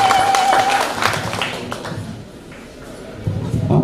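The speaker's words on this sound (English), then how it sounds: "we clap for him" Mourners clapping at a memorial service, a short burst of claps at the start fading into scattered taps and crowd murmur, with talk overlapping.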